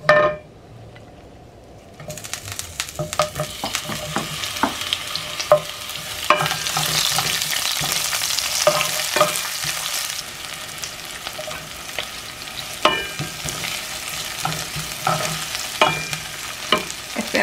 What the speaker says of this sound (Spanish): Ahorita que ya esté caliente, ya le vamos a poner la cebolla y el ajo.